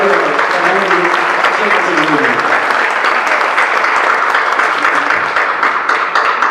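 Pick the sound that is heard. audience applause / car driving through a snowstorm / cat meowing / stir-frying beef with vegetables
audience applause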